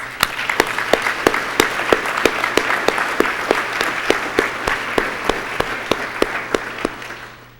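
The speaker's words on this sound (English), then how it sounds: "Let's give a huge hand applause." An audience at a city State of the City address applauds volunteers, a dense, steady burst of many hands clapping for several seconds before fading out at the end.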